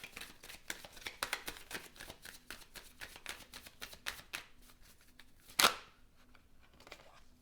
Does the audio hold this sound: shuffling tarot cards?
yes